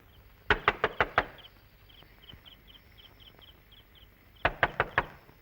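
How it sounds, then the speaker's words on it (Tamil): Two bursts of rapid knocking on a door, five sharp raps each, a few seconds apart, with faint insects or crickets chirping steadily in the quiet background. "யாரோ கதவு தட்டுறாங்கம்மா"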